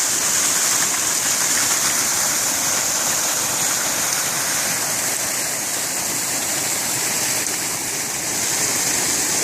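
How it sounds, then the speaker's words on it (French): Water rushes steadily down a roadside ditch and tumbles over a small fall, a loud, continuous broadband roar with no pauses and no voices. "On peut voir que l'eau arrive quand même assez vite et puis de manière que ça fait une chute"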